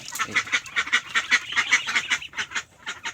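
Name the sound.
ducks quacking on a farm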